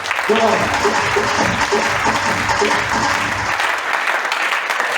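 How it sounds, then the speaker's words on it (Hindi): An audience in a seminar hall gives loud, sustained applause while a voice speaks over it, the clapping thinning out near the end. "उसके लिए जोरदार ताली बजाएं।"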